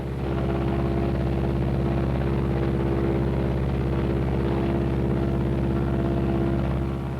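Martin B-26 twin piston engines and propellers drone steadily during an RPM run-up, a continuous loud, throbbing hum with no breaks.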